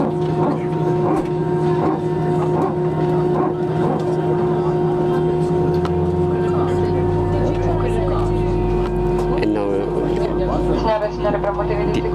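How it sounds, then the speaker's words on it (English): An airliner's second jet engine spools up, with a deep rumble building and growing louder halfway through beneath the steady cabin whine, while a voice talks throughout. "The second engine is starting up."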